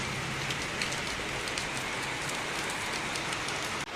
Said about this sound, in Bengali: কি জোরে হঠাৎ বৃষ্টিটা নামলো